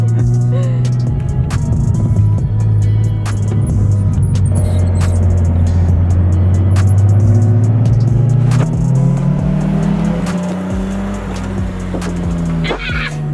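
BMW E36 with a manual gearbox pulls away and accelerates up through the revs, a loud, close engine note rising and then falling, with faint tire noise and light interior sounds.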